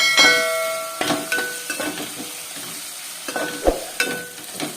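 Ginger garlic paste fries in a pan for aloo kurma, a soft sizzle punctuated by repeated clanging stirs and metallic taps of the spoon against the pan.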